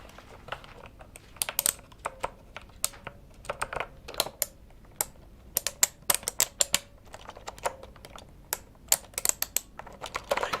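Typing on a heavy aluminium gaming keyboard with plastic keys: irregular bursts of crisp, close clicks and clacks, some runs quick and dense, others sparse, with no voices over it.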